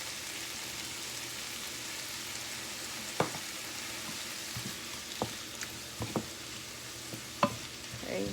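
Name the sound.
stuffed pepper filling simmering in pan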